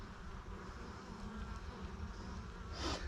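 Honey bees buzzing during a hive inspection, a steady dense hum from many bees that stays close and continuous throughout with no talking.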